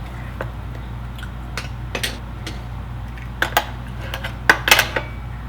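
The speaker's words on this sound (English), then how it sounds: "Cut myself another little piece." Knife and utensil clicks on a plate while cutting a small piece of okonomiyaki pizza, a few light taps and scrapes scattered over several seconds, gathering into a brief cluster of sharper clinks near the end, close and fairly quiet.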